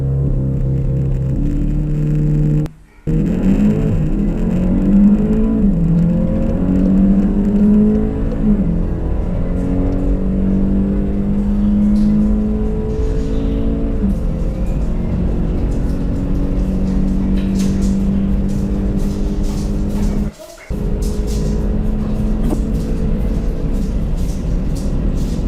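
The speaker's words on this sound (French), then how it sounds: "on va se préparer une petite accélération pour voir un peu ce que ça donne" A VW Golf GTI TCR with a four-cylinder petrol engine accelerates hard and loudly, its engine note climbing through the gears in rising sweeps, broken by two short gaps at gear changes.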